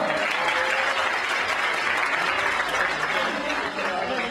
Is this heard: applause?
yes